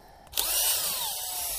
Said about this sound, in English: And I'm going to grab the drill